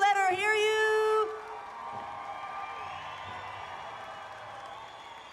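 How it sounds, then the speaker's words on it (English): Crowd at a pow wow applauding and cheering after an honor song, a steady wash of clapping and whoops that follows a loud announcer's voice and then holds at a moderate level. "big round of applause. Let her hear you."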